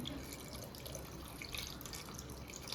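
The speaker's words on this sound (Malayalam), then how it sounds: "അത് വേവാൻ വേണ്ടി ആവശ്യത്തിനുള്ള വെള്ളം ഒഴിക്കണം" Water pours steadily into a pressure cooker holding potatoes and carrot, a continuous close splashing and trickling stream in a home kitchen.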